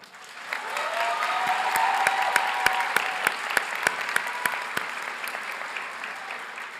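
A commencement ceremony crowd applauds steadily for several seconds, dense clapping with a few sharper claps standing out near the end.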